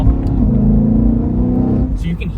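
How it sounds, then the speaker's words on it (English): A 2011 BMW E92 M3 GTS heard from inside the cabin with windows up, its intake giving a steady low snorting rumble under the engine drone, with a slight rise near the end and a voice talking over it. "So you can hear now with the windows up, sort of that snorting from the intake"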